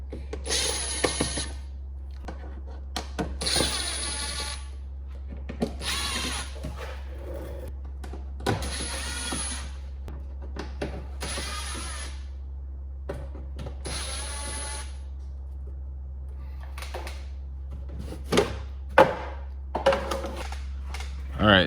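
Power tool spinning out T25 bolts on an MK8 GTI, a series of short whirring bursts with pauses between them, alongside ratcheting clicks and metallic rattles over a steady low hum.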